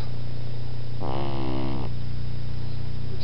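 A pug puppy lets out a single close, nasal snore lasting under a second, set against a steady low background hum.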